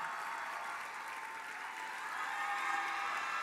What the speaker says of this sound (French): j'aimerais les applaudir